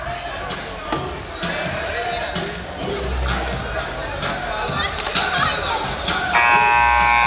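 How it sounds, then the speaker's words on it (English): Crowd noise fills a gym at a Friday night high school basketball game, a steady hubbub of cheering and chatter with squeaks and bounces from the court. "Great crowd here on a Friday night."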